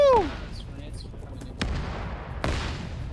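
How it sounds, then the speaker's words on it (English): Mortar fire in a Vietnam War video game: a short descending whistle opens, then two sharp, booming blasts about a second apart, fairly distant, over a low rumbling background. "Oh god, they made more mortars."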